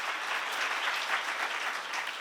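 A church seminar congregation applauds in a dense, sustained round of clapping that stays fairly even and moderately loud throughout, with no speech over it.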